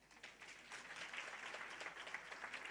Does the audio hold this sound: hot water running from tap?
no